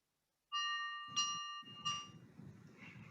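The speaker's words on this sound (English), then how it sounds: "there's that brain teaser bell" A bell chime signals a brain-teaser poll during an online healthcare talk session, struck three times about 0.7 seconds apart with ringing overtones and a low hum underneath.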